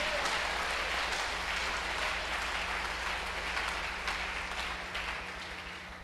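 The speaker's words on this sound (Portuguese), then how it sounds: "Pode dar uma salva de palmas assim ao Senhor" A church congregation claps together in sustained, dense applause that fills the room for several seconds, easing off slightly toward the end.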